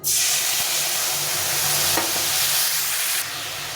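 Turmeric and salt frying in a hot spice tempering: a loud, dense, steady sizzle that fills the whole stretch, with light stirring underneath, easing off slightly toward the end.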